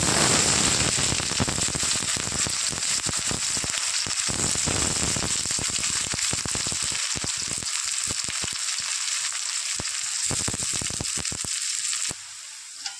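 Chopped onion frying in hot oil with black cumin and dried red chillies, a loud, steady close-up sizzle that crackles continuously and eases slightly near the end.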